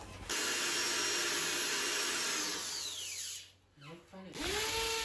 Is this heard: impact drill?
yes